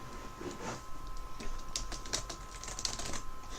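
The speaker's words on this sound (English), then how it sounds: "And we're going to type 4 comments" Keys on a computer keyboard clack faintly in an irregular patter of soft taps over a low steady hum, with no voices.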